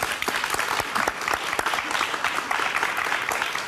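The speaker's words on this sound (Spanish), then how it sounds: "nuestro aplauso" A studio audience greets a singer with steady, energetic applause, many hands clapping densely and fairly close throughout the few seconds.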